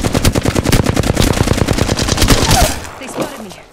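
Rapid automatic gunfire in Apex Legends, a loud, close burst of evenly spaced shots that rattles for about two and a half seconds and then breaks off into a fading tail.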